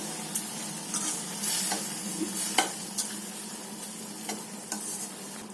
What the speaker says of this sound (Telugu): ఇలా పంచదార వేసుకొని కలుపుకోవాలి